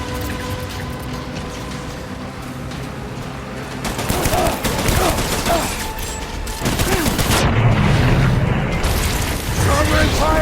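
Gunfire and explosions in the video game Death Stranding, a dense barrage of shots and booms that swells after the first few seconds, with voices calling out over the battle.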